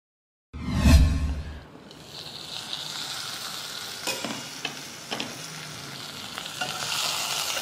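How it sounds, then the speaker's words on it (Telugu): Raw potatoes and onions are added to a hot pan with a loud initial sizzle, then settle into a steady frying hiss with occasional stirring knocks. "ఆలు ఉల్లిపాయ కలిసి వేగుతాయి"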